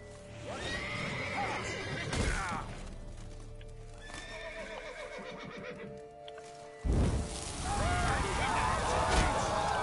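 A horse in The Witcher 3: Blood and Wine whinnies repeatedly amid hoof clip-clops and game sound effects, with a loud burst partway through and someone talking over it.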